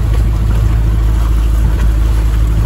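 A sailboat motoring on its engine into the wind between Guadeloupe and Marie-Galante, giving a steady, loud low engine drone with wind and water noise and no talk.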